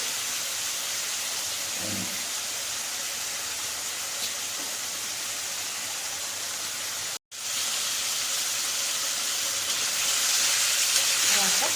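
Goat meat fries in a pan with a steady, even sizzle and hiss that runs throughout, briefly cutting out once midway before resuming.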